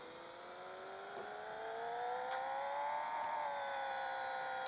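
A Ferrari F40 engine in the Pixel Car Racer game revs on the dyno, a steady synthetic whine that climbs smoothly in pitch and loudness and then holds near the top, with no talk over it.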